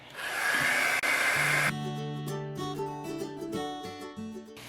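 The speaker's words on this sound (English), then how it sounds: "if you're impatient, you can use the heat gun to dry it" A heat gun blows a loud, steady hiss for under two seconds while drying chalk paste on a wooden Christmas ornament, then cuts off abruptly. Soft background music continues afterward.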